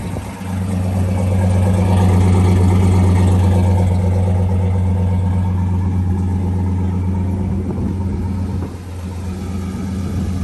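A turbocharged daily car floored at full throttle gives a loud, steady low engine drone that swells early, holds, then dips briefly near the end.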